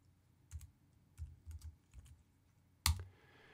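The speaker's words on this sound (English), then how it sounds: "we can type in that time code" A computer keyboard gives a few soft, scattered keystrokes while a timecode is entered in Premiere Pro CC 2017, then one sharper, louder key press near the end. The sound is quiet and close, with no talking.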